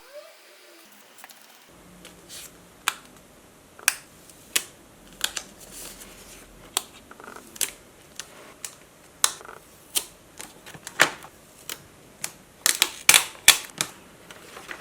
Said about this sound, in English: I hope you'll enjoy my last sticker ASMR part of the video.